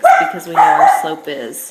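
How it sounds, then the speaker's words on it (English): A dog barks in quick, close, loud yips under a person's steady talking voice. "Sorry about my dog barking."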